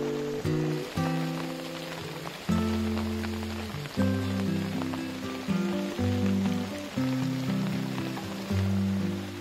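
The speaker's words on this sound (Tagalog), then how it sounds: "pumatak na ang ulan. Palakas na ng palakas" Rain falls on the roof of a native-style hut, its steady hiss and patter running the whole time under loud, sustained background music.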